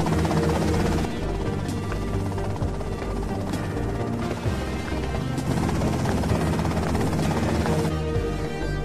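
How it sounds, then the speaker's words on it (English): Helicopter in the Grand Theft Auto: Vice City game, a loud, continuous rotor drone with a steady chopping roar that fills the whole stretch, no voices over it. "that's them and the chopper"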